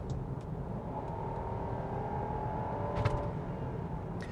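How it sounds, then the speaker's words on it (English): A Jeep Grand Cherokee L with a 5.7-liter Hemi V8 accelerates, a low, smooth engine rumble heard from inside the cabin, faint and steady with a gradual rising tone. "Accelerates really well, it sounds really good"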